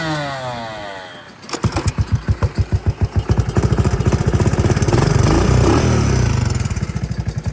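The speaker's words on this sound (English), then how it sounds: "bikes are ready to go, and we're gonna hit the trail" Dirt motorbikes start up on an Alaskan trail, one engine catching with a rapid chugging idle that builds into a steady, loud revving drone close by.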